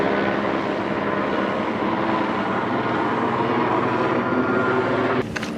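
An LAPD helicopter drones overhead in a slow flyby, a loud, continuous rotor and engine roar that stays steady throughout, with a sharp rustle breaking in at the very end.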